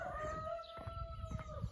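Roosters crowing in the early morning at a hillside car park near walking trails, several long rising calls overlapping one another amid steady outdoor background noise, with no talking.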